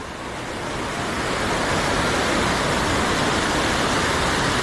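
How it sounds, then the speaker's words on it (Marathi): Steady rushing water of a village stream flows nearby, a broad continuous roar that builds slightly at the start and then holds even. "हा आमचा ओढा आहे गावचा"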